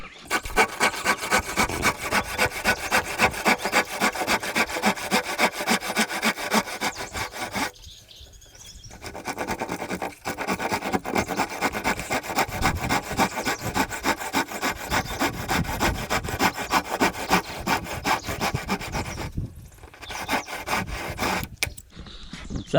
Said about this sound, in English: Just taking a silky to finish that cut.